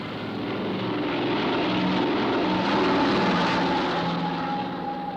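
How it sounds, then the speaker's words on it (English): A propeller airplane arrives at Inuvik with a steady, broad engine drone that swells slightly toward the middle and holds throughout, sounding fairly close, with no voices. "Today in Inuvik, we are expecting an airplane to arrive."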